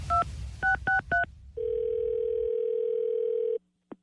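Four touch-tone dialing beeps, one alone and then three quick ones, are followed by a steady telephone dial tone lasting about two seconds and a brief click at the end, for a radio station prank call.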